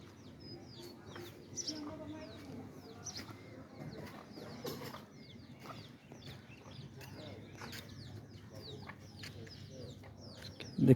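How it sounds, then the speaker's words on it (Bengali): A desi hen with two chicks clucks softly near a rural village pond, alongside thin, scattered chirps from small birds, all continuing steadily over a low background murmur. "দেখতে পাচ্ছেন একটি মুরগি আছে, দুটো বাচ্চা আছে সাথে, দেশি মুরগি"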